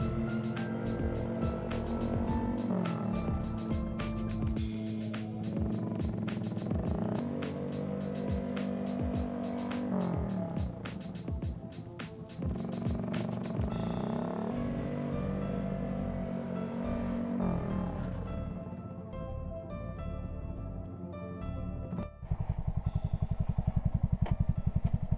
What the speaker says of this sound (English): We'll see how long it takes to stop with the rear brake versus the front brake.